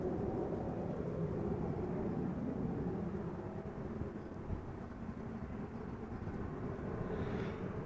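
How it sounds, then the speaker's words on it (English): Boeing 737-800 jet arriving at Amsterdam Schiphol from Brussels, a steady broad low roar of engine noise holding at the same loudness for about eight seconds, with no voices. "737-800, flight 1724, arriving from Brussels."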